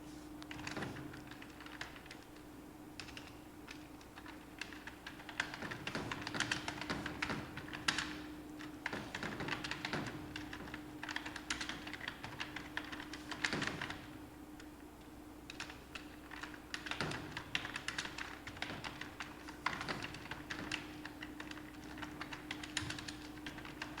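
Text being typed on a computer keyboard in MS Word, with fast, steady key clicks in irregular bursts across the whole stretch and a low steady hum under them.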